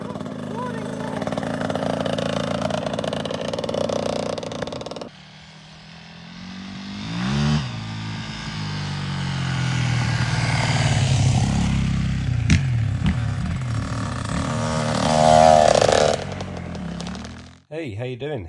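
A child's small dirt bike engine runs nearby with a buzzy, raspy drone that rises and falls through several revs and idles, with a voice heard over it before the engine cuts out near the end.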